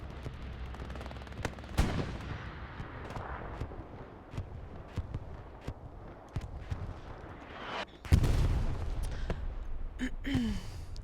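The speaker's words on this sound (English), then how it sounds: "that was a American bombing run that just came down on Southern Edge" American bombing run explosions hit in the Hell Let Loose World War II game at Foy, with scattered distant gunfire and thuds building to a heavy, loud blast burst near the end, no talk.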